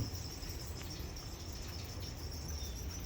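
Crickets raised in plastic buckets on a small farm, a faint, continuous high-pitched chirring drone that holds steady throughout over a low background rumble.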